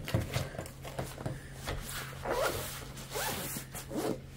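A zipper runs in several rasping pulls as a waterproof trading card binder case with a handle is opened and closed, close and fairly quiet, with no speech.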